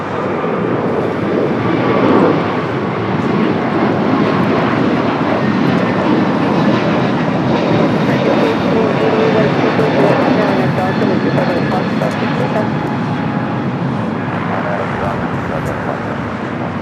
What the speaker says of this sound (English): Japan Airlines Flight 16 coming up from Tokyo Haneda, A350